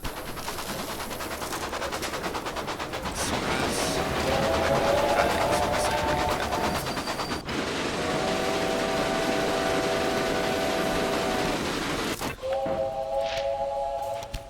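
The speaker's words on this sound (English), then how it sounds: "The freight train." A freight train in the game Railway Empire runs with a steady rumbling, clattering roar, joined by drawn-out whistle-like tones several times, loud and continuous throughout.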